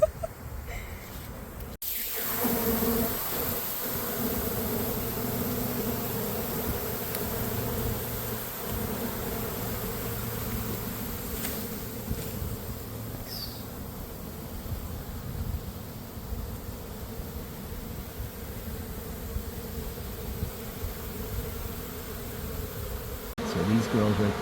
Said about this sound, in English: these girls right there are fanning, they're releasing a pheromone that says, hey, we're moving